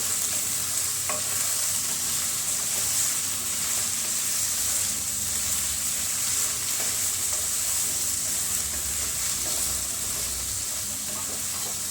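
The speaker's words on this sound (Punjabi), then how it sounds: "ਪਿਆਜ਼ਾਂ ਦੇ ਨਾਲ ਆਪਾਂ ਆਲੂਆਂ ਨੂੰ ਵੀ ਭੁੰਨ ਲਵਾਂਗੇ" Potatoes and onions roasting together in a pan for a Punjabi sabzi, giving a constant close sizzle with repeated scraping and stirring of a spatula, loud and even throughout with no talking.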